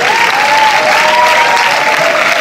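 A cinema audience at UGC Les Halles applauds a film producer as he is introduced at a screening, a dense, steady wash of many hands clapping that holds evenly throughout.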